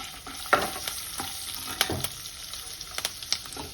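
Peanuts frying in hot oil for semiya pulihara give a steady close sizzle, broken by scattered stirring scrapes and clicks of a spoon against the pan.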